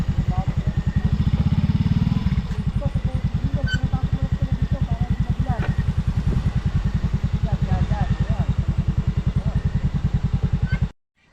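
A Yamaha Mio i 125 scooter engine idles steadily up close with a fast, even putter. The engine runs loud throughout, faint clatter and scattered noises sit on top, and it cuts off abruptly near the end.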